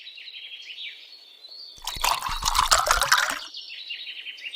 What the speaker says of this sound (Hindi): बेटी कमाली कुएं से पानी निकाल रही थी।